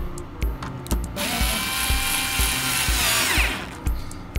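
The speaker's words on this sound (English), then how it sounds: "Now we're gonna reattach those torque screws." Compact power driver reattaching torque screws on a Tesla Wall Connector, with short repeated whirring bursts close by and a longer rising whine in the middle.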